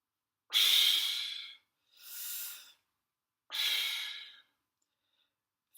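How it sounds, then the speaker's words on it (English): Three loud, breathy exhalations during a brass lip-buzz exercise, each lasting about a second and separated by brief silences, close and clear with no other sound. "I'm breathing."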